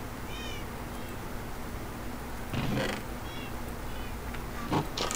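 Cat meows in the video game Minecraft, a few short high mewing calls repeating over a dense steady background din, with louder bursts of other game noise in between.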